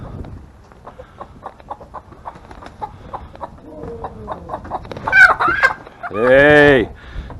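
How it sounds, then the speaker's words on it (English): Backyard chickens cluck in a steady, moderately close run of short calls, building to a louder, drawn-out squawk near the end, with no talking over them. "Come on, chicken, chicken."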